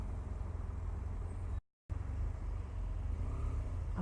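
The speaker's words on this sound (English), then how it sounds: "Traffic is horrible today." Road traffic passing in heavy congestion while riding a BMW F800GT motorcycle, a continuous low rumble of car and engine noise with a brief dropout partway through and no voices.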